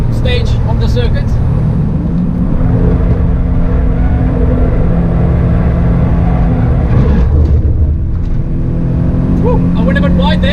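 A car lapping a race circuit during a track day, its engine a loud, constant close-up drone with shifting harmonic tones as it holds speed, while someone talks over it.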